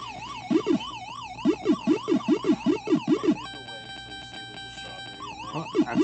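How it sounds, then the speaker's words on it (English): An extra-life jingle from the NES version of Pac-Man rings out as a loud, steady run of electronic tones over a repeating chip-tune melody, with rhythmic game blips before and after it. "that's the sound of the extra life"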